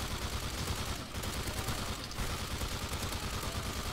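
Automatic sentry gun firing in a video game, a dense continuous rattle of rapid shots heard for the whole stretch with no talk over it.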